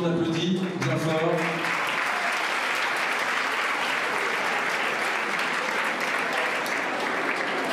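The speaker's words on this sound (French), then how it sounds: "que l'on applaudit bien fort" Audience applause at a Miss Saône-et-Loire pageant, starting after a brief announcer's voice and then continuing as dense, steady clapping from a large hall crowd.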